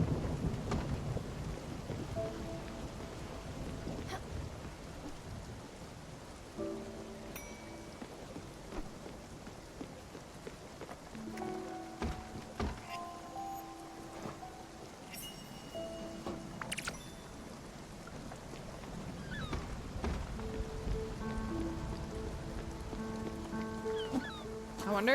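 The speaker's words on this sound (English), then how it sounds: "it is a storm" Rain and rumbling thunder from a storm in the video game Spiritfarer, a soft continuous patter with low rolls of thunder, kept faint in the background under scattered chimes and musical tones.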